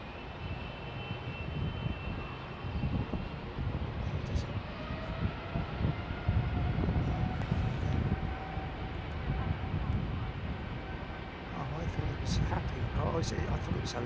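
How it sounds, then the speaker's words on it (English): Engines of a Boeing 777-300 on landing approach to runway 27R give a continuous broad roaring rumble with a faint whine, fairly distant and steady, while people talk over it. "This is the 777-300."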